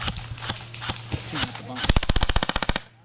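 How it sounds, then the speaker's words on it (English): An airsoft gun dry fires: a few spaced single clicks, then a rapid burst of sharp, evenly spaced mechanical cracks, close and fairly loud, with a voice briefly heard. "You're dry firing, bro."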